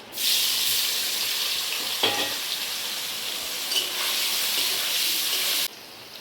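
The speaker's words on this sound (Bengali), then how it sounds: "তেলটা গরম হয়ে গেলে আমি এবার পনির দেবো, পনিরটা ভেজে দেবো।" Steady, loud sizzling of paneer frying in hot oil, with a few brief clatters of stirring, then the sizzle suddenly drops away near the end.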